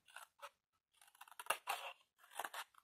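Scissors snip card stock for a pirate-chest postcard craft, several short crisp cuts in quick irregular bursts with brief pauses, close and quiet.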